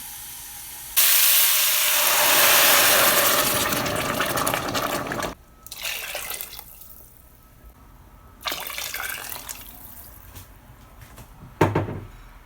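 About 1.5 liters of boiling water pours into a pot of sweet potato and red lentil soup with a loud, hissing rush lasting several seconds, followed by quieter pot clatter and a sharp knock.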